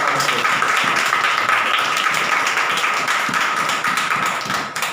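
A congregation at a fasting prayer service claps together, a dense, loud patter of many hands sustained evenly before tapering off at the end.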